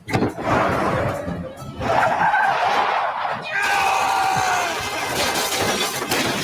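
A car braking hard in the animated Lackadaisy pilot, with tires skidding and squealing over a crash and shattering debris, loud and close, while voices talk over parts of it.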